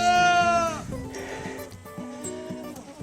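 Goats bleat on a farm at feeding time: one loud, close, wavering bleat opens, followed by quieter overlapping bleats from other animals in the pen.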